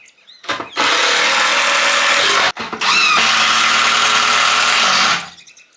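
A power drill drives screws into a timber garden bench in two long, steady whirring bursts, each rising and cutting off sharply with a short pause between; no one speaks.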